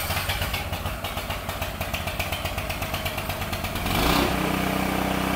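A Blackstone 3,500-watt generator with push-button start runs loud and close, a steady chugging engine drone that surges and shifts in tone near the end. No one speaks.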